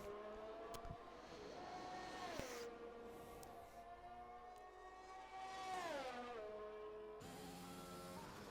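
A Ferrari race car leaving the pits in a racing video game at the Australian Grand Prix, its engine a faint, whining drone that climbs and drops through gear changes, with other cars passing quietly underneath.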